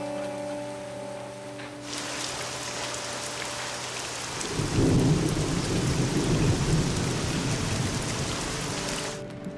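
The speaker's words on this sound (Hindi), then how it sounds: "और फिर आसमान फट पड़ा। मैंने इतनी बारिश कभी नहीं देखी है।" Heavy rain pours down in a dense, steady roar, and a deep rumble of thunder rolls in midway, building louder before easing back.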